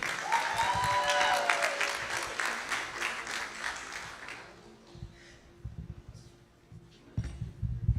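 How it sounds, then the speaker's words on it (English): An audience at an Asian heritage month event bursts into dense applause for about four seconds before it trails off into scattered claps and room noise. "Give them all a round of applause, please."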